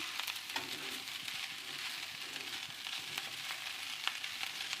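Dark soy sauce and rice being stir-fried in a hot pan for homestyle Chinese fried rice, a steady close sizzle with scraping stirs and light clinks throughout.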